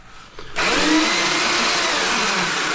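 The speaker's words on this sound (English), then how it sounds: "My bearings are starting to go in that mixer." A cement mixer with worn bearings starts up with a sudden jump to a loud, steady grinding whir, broadband and harsh, running continuously after a brief quiet lead-in, with no talking.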